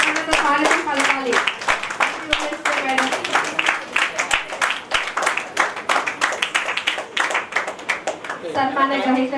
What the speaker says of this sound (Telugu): గట్టిగా చప్పట్లు, గట్టిగా చప్పట్లతో స్వాగతం పలకాలి